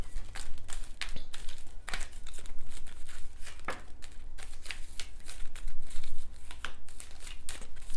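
Oracle cards being shuffled by hand, giving a continuous run of crisp papery riffles and flicks with sharp card snaps scattered throughout, close and moderately loud with no talking.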